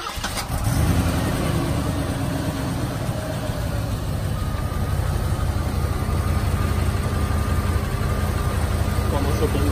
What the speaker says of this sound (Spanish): Y voy a arrancarlo.